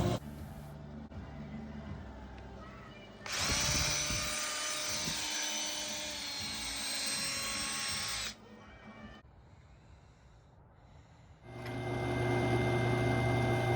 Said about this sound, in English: I used my brad point bit here with the collar and drilled out holes for the stems